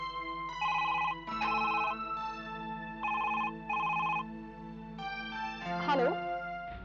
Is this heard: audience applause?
no